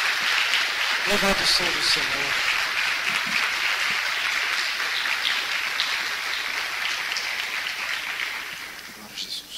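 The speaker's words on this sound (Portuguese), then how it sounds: "Dê uma salva de palmas a Jesus." Church congregation applause fills the space as a broad, steady wash of many hands clapping, with a voice speaking over the start and the clapping thinning slightly toward the end.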